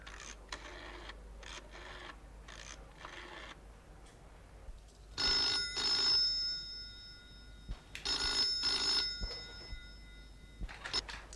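An outgoing phone call rings back in the earpiece, giving faint, evenly spaced electronic tone bursts with quiet gaps between them, alone with no one talking.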